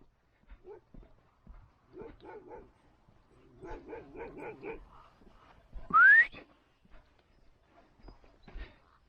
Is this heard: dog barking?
yes